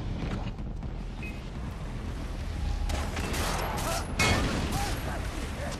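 Rockets and gunfire roar in a Far Cry 3 firefight. A steady, dense rumble of shots and blasts swells into louder bursts near the middle and end.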